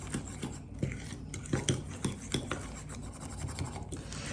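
A fork whisks cake batter in a bowl, giving a steady run of quiet, rhythmic scraping and clinking strokes against the sides, close by with no talking.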